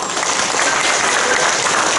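Applause from a congregation at a Monday worship service in a large auditorium, a dense, steady wash of many hands clapping that holds evenly throughout with no voices over it.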